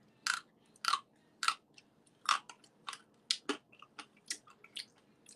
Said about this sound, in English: You hear a crunch?